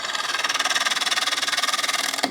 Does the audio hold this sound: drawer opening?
no